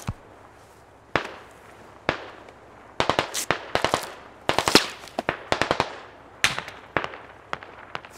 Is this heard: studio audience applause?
no